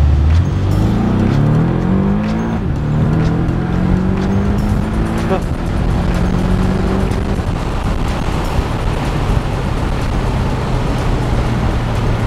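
Porsche 718 Boxster accelerating hard on a full-throttle pull, engine note climbing through the revs with a shift partway, loud and close inside the car under steady road and wind roar.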